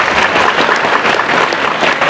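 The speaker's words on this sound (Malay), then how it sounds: "bagi tepukan untuk Abang Daniel kita" A burst of dense, loud applause from an audience for Abang Daniel, sustained evenly through two seconds.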